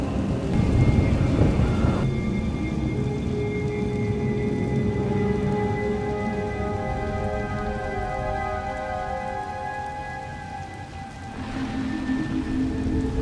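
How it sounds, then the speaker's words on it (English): A heavy rainstorm with rolling thunder in Star Wars: The Old Republic, a loud continuous downpour with deep rumbles and a sustained tonal drone running underneath. "Hard to track them through the storm. Rain's wiped out the trail."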